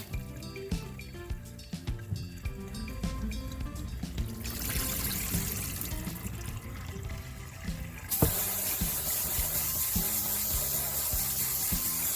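Tumbled Lake Superior beach stones are rinsed in a colander under running tap water, with a steady close rush of water, gritty rubbing and clicking of stones, and the flow growing louder partway through.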